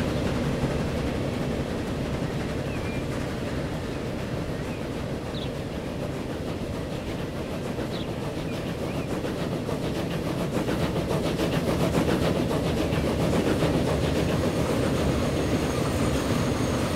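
A train rolls past in the rail-building video game Transport Fever, a steady, dense rumble of wheels and carriages that holds loud and continuous for the whole stretch, with no voices over it.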